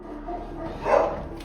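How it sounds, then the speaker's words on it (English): A dog barks in the background, a short burst of muffled barking under steady low background noise, fairly faint and distant. "You can even hear a dog in the background barking its head off"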